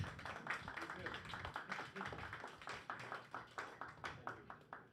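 Audience at a day of an Entrepreneurial Journey Workshop claps in a fairly quiet round of applause, uneven hand claps spread through the room with a voice audible underneath.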